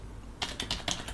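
Typing on a computer keyboard: a short burst of about five crisp, close key clicks in quick succession after a brief quiet start.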